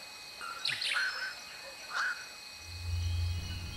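Forest birds give two short, bright chirping calls about a second apart against a steady high insect drone, with a low rumble rising near the end.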